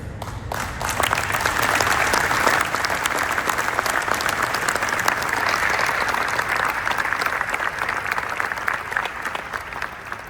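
An audience at a book launch in a large exhibition hall bursts into applause, a loud, full wash of many clapping hands that swells quickly and holds steady for about ten seconds before easing slightly.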